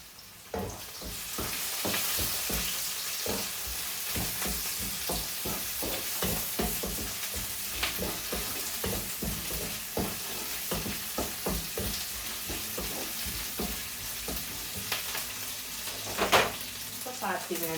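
Curry leaves, cardamom and cinnamon sticks sauté in hot oil in a pan for Sri Lankan mutton curry, a steady close sizzle with frequent crackles and pops, and the clink of a stirring spoon now and then.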